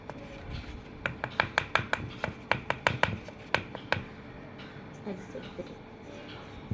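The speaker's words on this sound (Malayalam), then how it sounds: "അത് നമുക്കിതിൽ അരിച്ചെടുക്കാം." Cornflour is sifted through a sieve for a butter cake, making a rapid run of close, sharp tapping knocks against the mesh, then softer rustling, with someone speaking underneath.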